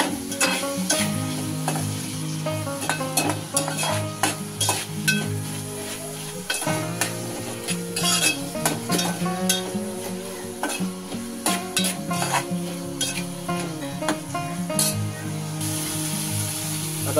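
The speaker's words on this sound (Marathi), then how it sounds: "हा कांदा आणि टोमॅटो जरा पटकन भाजला जाईल." Onion and tomato fry with salt in a pan for a prawn and drumstick masala, a loud steady sizzle broken by frequent metallic clinks and scrapes of a spoon stirring against the pan.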